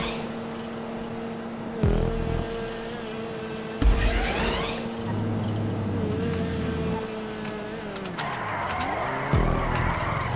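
In the GTA 5 Online racing game, an Issi Classic car engine drones steadily with tire skids and a few sharp impact bursts as the car crashes and scrapes, close and loud throughout.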